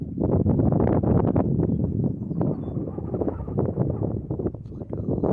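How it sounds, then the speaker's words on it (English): Strong wind gusts at an outdoor dig for ancient Native artifacts, buffeting the microphone with loud, continuous low rumble and rustle that rises and falls throughout. "It's gotten stinking windy."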